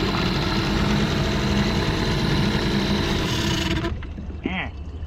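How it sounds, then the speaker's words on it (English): A small engine idles high, running steady and loud for about four seconds after a serpentine belt install, then cuts out sharply and leaves a quieter tail with a brief whine. "now it's idling, so it's actually idling really high"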